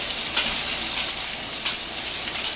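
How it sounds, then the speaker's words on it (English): Sausages, zucchini, peppers and onions frying in a skillet give off a dense, steady hiss of sizzling, close and continuous with a few faint stirring swells. "Potatoes, like a skillet with sausages, zucchini, peppers, onions"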